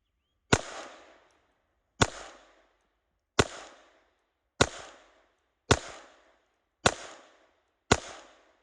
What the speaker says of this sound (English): Shoot it limp-wristed, support hand,